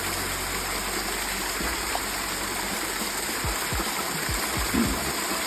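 Water gushing steadily into a well container whose bottom hole has been plugged, a broad continuous rush with a few low thumps and gurgles.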